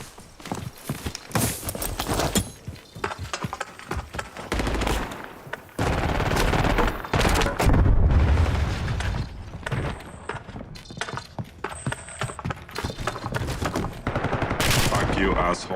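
Rapid gunfire bursts and single shots in a Call of Duty: Warzone match in Verdansk, loud and near, crackling almost continuously with brief lulls while a voice talks over the action.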